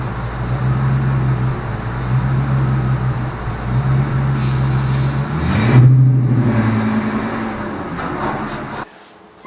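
A Ford V10 truck with a newly fitted Trac Lok limited-slip differential revs its engine hard during a burnout, a loud, rumbling roar that climbs and peaks midway before dropping away suddenly.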